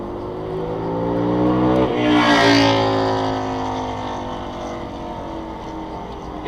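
A loud motorcycle riding in city traffic, its engine roar swelling as it passes close by and then fading, with a steady traffic rumble underneath.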